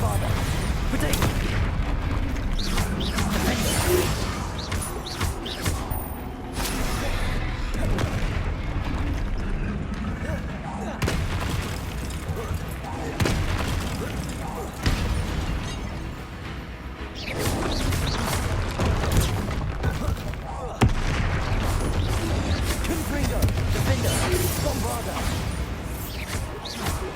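Spell blasts and combat in Hogwarts Legacy during a troll fight: dense, continuous booms, crashes and magical bursts fill the whole stretch, with voices calling out over the clamor.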